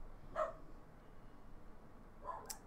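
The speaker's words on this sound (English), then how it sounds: "I also apologize if you're hearing my dogs bark in the background." Small terrier dogs bark faintly in the background indoors, two brief distant yips about two seconds apart over quiet room tone.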